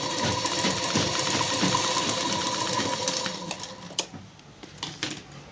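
A sewing machine runs in rapid, steady bursts while double-stitching tucks on a blouse, a close mechanical whir with rhythmic needle clatter that slows into a few separate knocks and clicks near the end.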